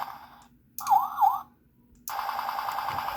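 A toy siren whoops twice in quick rising-falling sweeps, then after a pause a steady electronic wail starts and holds, fairly loud and close.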